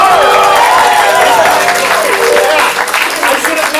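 A comedy improv theater audience applauds in a dense, loud wash of clapping that fills the room, with voices mixed in underneath.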